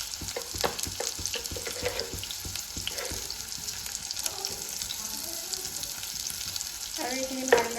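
Fish with sesame seeds sizzles in hot oil in a pan, a steady crackling fry with occasional stirring scrapes and a brief clatter near the end.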